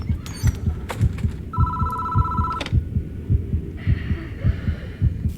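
In the horror video game Death Mark, an old telephone trills in one short, steady electronic burst over a dull, thumping heartbeat that pulses throughout.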